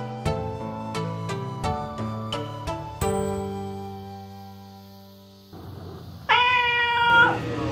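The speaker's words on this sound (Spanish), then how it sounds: "¡Ahí hay otro gato!" Cat on a Japanese cat island meows once near the end, a clear, fairly close call that follows a stretch of struck, piano-like musical notes.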